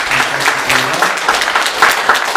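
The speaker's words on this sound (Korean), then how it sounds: "우리 모두가 박수로 여러분들 응원해 주시면" A church congregation, standing during a Sunday service, applauds the students with steady mixed clapping from many hands that fills the whole moment, and a faint voice lies beneath.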